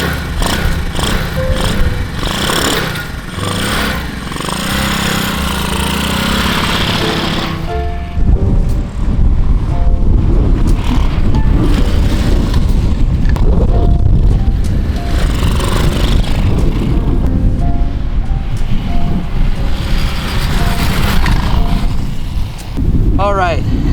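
Small Lifan engine fitted to a Honda S90 motorcycle runs on a test start, a loud steady rough mechanical drone that grows fuller and busier after the first few seconds and holds close throughout.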